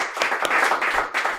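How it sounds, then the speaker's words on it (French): A small audience gives a brief round of clapping, a short burst of close, uneven claps that rises and then drops away. "On l'applaudit Max."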